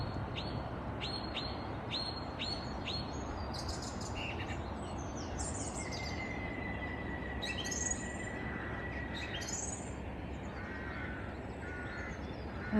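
Several birds call outdoors on a misty seaside morning, including repeated harsh crow caws near the start, then assorted chirps, tweets and a long whistled note, all over a constant low wash of distant waves, with no talking.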